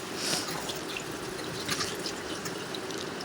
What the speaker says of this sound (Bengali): ভেন্ডিটাকে আমি প্রথমে খুব ভালো করে জল দিয়ে ধুয়ে নিচ্ছি